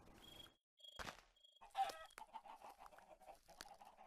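Chickens cluck in short, quiet bursts inside the Minecraft Crazycraft modpack, with a few scattered clucks and squawks close together and no talking.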